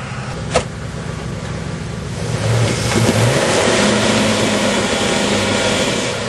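A 4x4 off-road vehicle spins one wheel at an event in Caton; a steady engine drone swells into louder, sustained revving that holds close and loud to the end, with no voices.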